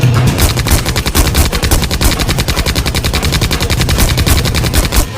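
Rapid battlefield gunfire crackles without pause, dense machine-gun bursts layered with booming blasts from a nighttime bomb strike on enemy soldiers, loud and continuous throughout with no talking.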